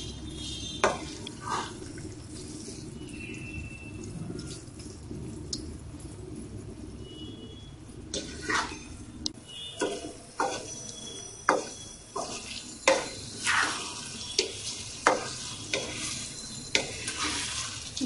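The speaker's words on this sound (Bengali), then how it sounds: "চিনি দিয়ে ভালো করে নাড়াচাড়া করতে হবে।" Sugar is stirred into a green mango pickle in a pan, giving a soft bubbling background broken by a run of regular scraping strokes that grow more frequent in the second half.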